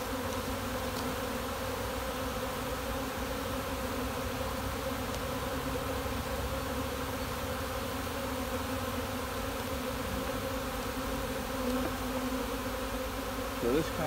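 Honey bees drone steadily around an open beehive during an inspection, a dense, continuous buzz of many insects close by that holds even throughout, with no talk.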